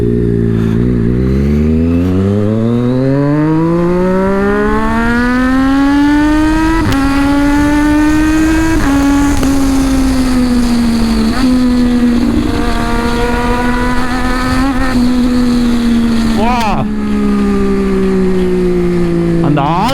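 A Triumph Daytona 675R motorcycle revving hard, its exhaust note climbing in pitch through repeated gear shifts. Loud, close, and sustained throughout, with a speaker talking over it.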